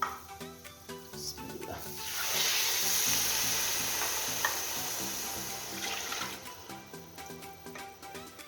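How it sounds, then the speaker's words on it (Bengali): Thickened milk poured slowly into a simmering pot of blended sweet pumpkin, a steady soft sizzle and bubbling that swells in the middle and eases off, with light clinks of a utensil, no talking. "আস্তে আস্তে করে আমি এখানে অল্প অল্প দুধ দিয়ে দেবো।"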